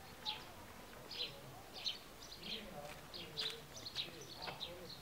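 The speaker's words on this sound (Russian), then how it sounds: "Уже поют птички в саду." Small birds chirp and tweet repeatedly in a garden, thin high calls at a distance, fairly faint over a soft outdoor background.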